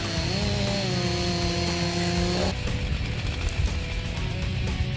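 A chainsaw cuts a felled old tree, roughly 30 m tall and 3 tonnes, into lumber slabs and short firewood pieces. The engine holds a loud, steady whine for the first half, then drops into rougher, broadband cutting noise.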